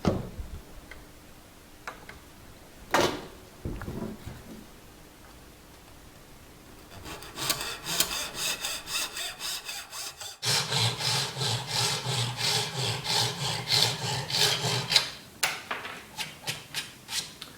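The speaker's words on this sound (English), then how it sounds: "clamp it to your workbench or something like I've prepared here, and then just cut it to length." A handsaw cuts a bent wooden Spanish guitar side to length while it is clamped to a workbench. A few sparse knocks come first, then steady rhythmic back-and-forth rasping strokes that grow louder and denser toward the end.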